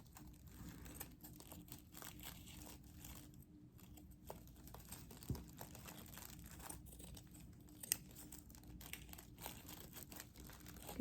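Scissors cutting stretchy baby-clothes fabric for doll clothes, a faint, close run of soft crinkling snips and rustles at a low, steady level with no talk.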